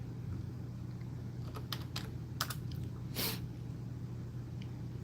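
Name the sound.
typing on a computer keyboard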